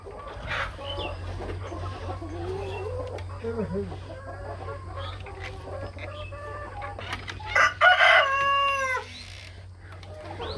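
Brahma chickens cluck steadily around a small hobby farm, and a rooster crows loudly near the end, its long call standing out over the flock's chatter and a low constant hum.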